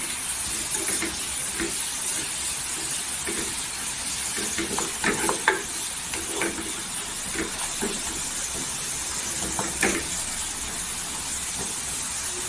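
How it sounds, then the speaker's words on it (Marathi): Spices and coriander for a tempering crackle and sizzle in hot oil beside salt-roasted chillies, making a steady hiss broken by clusters of sharp pops and spits. "खमंग अशी फोडणी द्यायची छान असा बघा कसा आवाज येतो"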